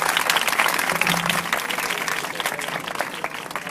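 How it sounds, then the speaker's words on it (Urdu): Audience applauding inside a church in Lahore, a steady dense clapping from a crowd that carries on throughout and eases slightly toward the end, with no talk over it. "آپ کی بھرپور تالیاں ہونی چاہیے۔"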